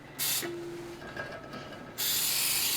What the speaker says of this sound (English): spray our tube pan that we're going to cook it in, and we're going to spray it with Joy